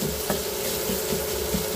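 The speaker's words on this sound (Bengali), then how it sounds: "এই যে এবার এই পেঁয়াজগুলো" Sliced onions and green chillies fry in a pan for pangas fish bhuna, giving a continuous close sizzle with light stirring scrapes throughout.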